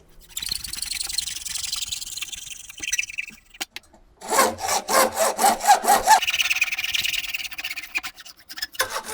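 A hacksaw cuts through a workpiece held in a vise: a rough rasping stroke first, then a run of fast, regular back-and-forth strokes that sound close and fairly loud, with no talking.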